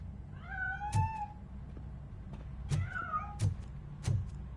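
A cat in a RoboCop: Rogue City video game meows several times in quick succession, clear and close, with soft thumps beneath some of the calls.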